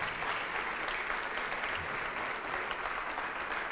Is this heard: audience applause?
yes